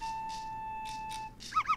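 A small cartoon dog in Yoshi's Crafted World gives a couple of quick, high, squeaky yips near the end, quiet behind a soft, steady electronic tone.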